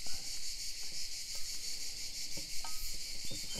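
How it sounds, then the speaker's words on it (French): Cicadas chirp outdoors near an olive grove in a steady, dense, high-pitched drone that fills the whole stretch, with a few faint clicks and soft knocks beneath. "Tout ça au bruit des cigales."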